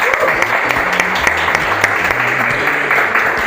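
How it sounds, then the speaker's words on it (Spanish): A church congregation applauds steadily throughout, dense broadband clapping with faint low tones from music or voices underneath. "esta iglesia lo recibe con un aplauso como siempre lo hacemos"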